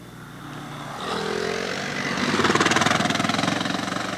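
Dual sport motorcycles pass along a wooded trail during the 1992 Hocking Valley ride, engine drone building from moderate to louder as riders approach, with a revving, pulsing tone near the end.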